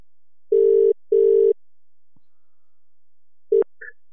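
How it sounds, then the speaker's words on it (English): A phone call rings out, two long steady electronic ring tones with a short gap between them, then a brief click as the line is answered. "Sorry, I'm calling off Marty's phone"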